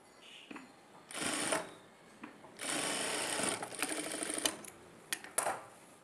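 A sewing machine stitches the hem of a prince-cut blouse in close, rapid mechanical bursts. Short runs alternate with longer steady stretches, separated by brief pauses and handling clicks.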